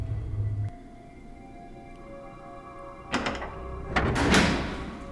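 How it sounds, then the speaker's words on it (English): A door opening in the Resident Evil REmake, heard as a low thump followed by two loud, close creaking and rattling bursts of the door swinging open over a quiet ambient hum. "Now we're going to go through this door."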